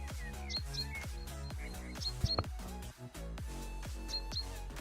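Small bird chirps ring out in repeated short tweets in an indoor room during a live day-trading stream, sounding faint and close against a soft, rhythmic pulsing background, with no talk.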